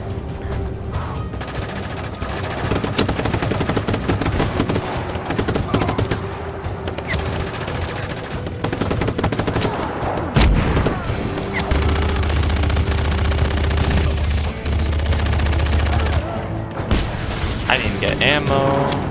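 Heavy gunfire in the video game Just Cause 3, with near-continuous machine-gun bursts and booms layered over busy game sound and a low rumble, and some voices mixed in.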